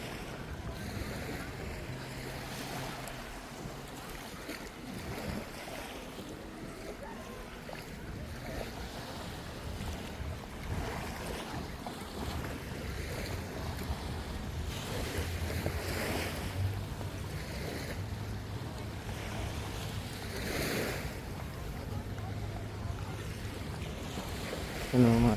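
Calm sea at a Boracay beach on a clear afternoon: a steady, soft wash of small waves with wind buffeting the microphone and faint distant voices or boats, continuous for the whole stretch.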